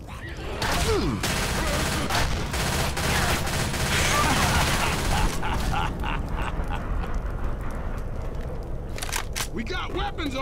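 Rapid bursts of gunfire rattle through a zombie shooter match in Left 4 Dead 2, dense and loud for several seconds, while a character's voice shouts over it before the shooting trails off.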